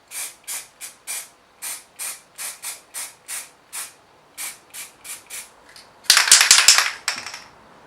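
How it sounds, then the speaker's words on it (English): Short bursts of aerosol spray painting the guns of a model tank, about a dozen quick hisses in an irregular rhythm, ending in a longer, louder spray. "we'll give those a bit of spray painting"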